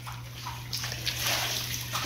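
A submersible pump pumps water out of a small backyard tilapia pond at harvest, making a steady, close rushing and splashing gush of water with a constant low hum underneath, with no talk.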